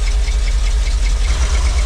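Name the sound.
old fire truck engine idling roughly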